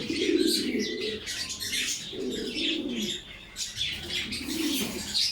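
On a pigeon farm, a few pigeons give low throaty coos in three clear bursts spaced about two seconds apart, with light chirps and faint wing flutters between them.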